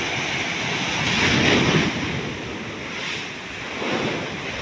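Sea waves at Matnog port wash in steady swells with strong wind rumbling across the microphone. Two louder surges rise and fall a few seconds apart.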